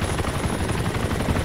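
Helicopter rotor and engine drone in ARMA 2, a loud steady continuous roar with no pauses.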